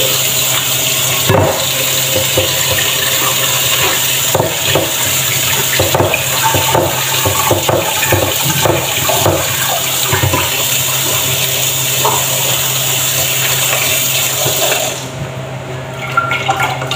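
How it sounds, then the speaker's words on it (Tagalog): Tap water runs steadily over white pasta being rinsed in a sink, a continuous close splashing hiss with slight shifts as the pasta is moved, easing off near the end. "Hugasan naman natin ng itong pasta."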